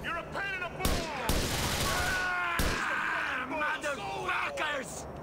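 Gunfire in Grand Theft Auto IV, a few sharp broadband cracks including a sniper rifle shot, heard over a talking voice and a busy game soundscape.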